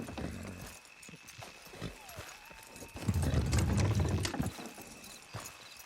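Horse hooves clopping and scraping as the horse strains to pull in the video game Red Dead Redemption 2, with a louder rumbling pull in the middle and occasional creaks and thuds.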